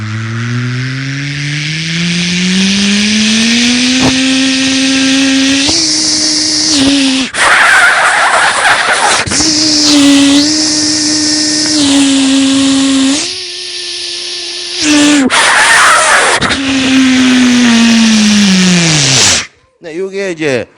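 A voice imitates a vacuum cleaner, a loud sustained droning whine that rises and shifts pitch, cutting off and restarting several times before stopping.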